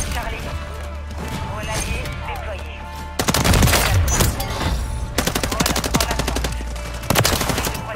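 Loud, rapid bursts of automatic gunfire from the MCW rifle in Call of Duty MW3, firing in several distinct strings with short pauses between them. In-game voices are heard under the shooting.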